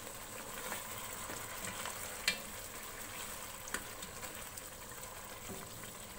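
Chicken biryani masala frying in a pot, a steady, fairly quiet sizzle with a few soft stirring knocks and clinks against the pot.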